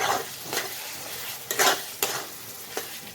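A spatula stirs spice paste through a homemade chatpata pickle in a hot pan, making a steady close sizzle broken by several sharp scraping strokes.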